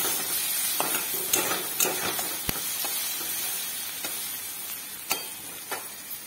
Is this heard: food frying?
yes